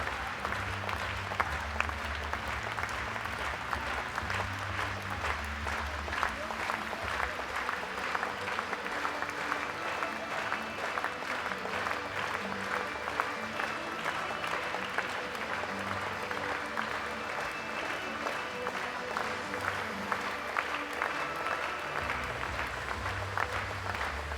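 Spectators at a para swimming race during the ASEAN Para Games fill an indoor pool hall with steady, distant applause and crowd noise throughout, fairly faint and reverberant.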